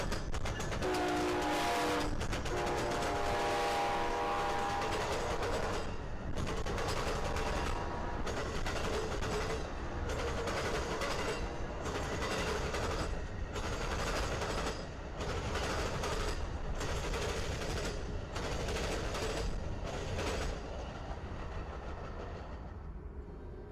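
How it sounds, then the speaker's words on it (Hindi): An Amtrak Floridian passenger train clatters over dual rail crossing diamonds, giving a loud, continuous rumble broken by a long series of heavy rhythmic bangs as the wheels strike the crossing, with a brief horn-like tone near the start. "मिनट बाद ही ट्रेन रेलवे चौराहे के डुअल डायमंड्स पर खड़खड़ाती गुजरती है।"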